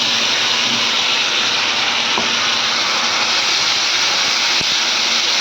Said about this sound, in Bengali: এবার আমি পেস্ট করা মশলাটা দিয়ে দেব